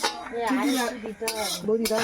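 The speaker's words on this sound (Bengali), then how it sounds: "খালি কড়াই নাড়া দিচ্ছে।" A metal spatula scrapes and clinks against an empty wok, close by and in short bursts. A person speaks alongside the scraping.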